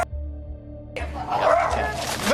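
A dog barks and whimpers indoors during a tense confrontation, with a few short yips breaking through amid raised human voices and background commotion.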